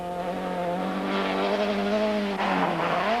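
A BMW rally car races past during a stage rally, its strained engine drone sliding down in pitch, then surging and climbing again near the end, fairly close and without voices.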